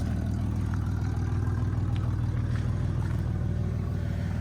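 A Chevrolet Camaro engine idles steadily, a loud, even low rumble with a constant pulsing throb close by, with no voices.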